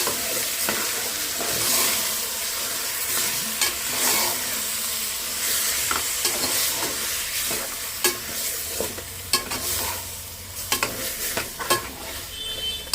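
Boti curry being stirred in a pan over heat, a sizzling bed broken by repeated scraping and clattering strokes of a spoon that grow sharper and more frequent toward the end, close up, with no talking.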